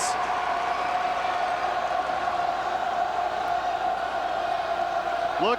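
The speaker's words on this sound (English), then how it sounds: "Listen to their crowd. They are into it." A basketball crowd behind the basket at a Minnesota boys high school state quarterfinal, cheering and bouncing, a steady roar of noise with a sustained tone and a voice over it.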